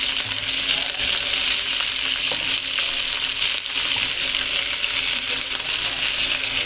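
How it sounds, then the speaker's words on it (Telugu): Curry leaves fry in hot oil with a loud, steady, hissing sizzle that carries on without a break for several seconds, close up and with no voices over it. "వేగుతున్నాయి. నా కరివేపాకు వేసే వరకు సౌండ్ వస్తుంది."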